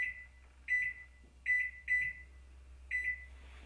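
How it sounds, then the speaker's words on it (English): Kitchen timer beeping in a kitchen, five short electronic beep bursts at uneven intervals, clear and fairly close over a faint low hum. "Set your kitchen timer for 1 minute."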